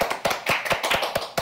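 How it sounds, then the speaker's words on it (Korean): A small group claps hands in a quick, sharp, uneven burst of applause lasting a moment, close and fairly loud, with no talking over it. "박수!"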